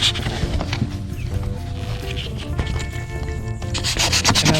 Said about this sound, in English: And I'm sanding this against the grain to start.